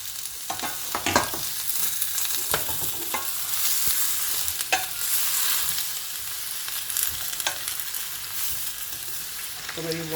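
Potato dropped into onions frying in a pan on reduced heat, giving a steady bright sizzle with repeated scraping and stirring strokes and occasional clinks, close and sustained, with no talking.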